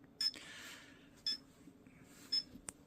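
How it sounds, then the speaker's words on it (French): Short electronic beeps from the control module of an FMS Toyota Land Cruiser LC80 RC crawler, three crisp high chirps spaced about a second apart, close and clear over a low background hum. "on a un petit bip qui bip"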